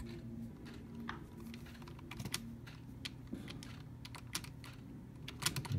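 Keys on a computer keyboard in the Portal video game are hit in irregular bursts of sharp clicking, up close over a low steady hum, with a few louder taps near the end and no voices.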